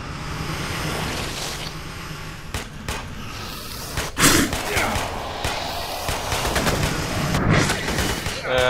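Enemy gunfire in Aliens Colonial Marines multiplayer: scattered shots and sharp impacts over a busy, chaotic background, moderately loud with uneven bursts and occasional heavier hits.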